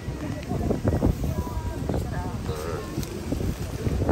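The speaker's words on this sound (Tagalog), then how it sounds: "Ewan ko kung nadidinig nyo ako dahil napakalakas ng hangin" A strong wind buffets the microphone in a steady roar at an outdoor spot in Cebu, with a person talking over the gusty noise.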